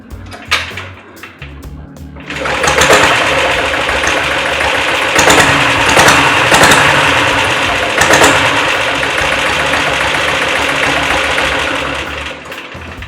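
A diesel Royal Enfield motorcycle is kicked a few times with sharp mechanical thumps, then catches and settles into a loud, close, steady knocking idle that runs on with a rapid chugging beat.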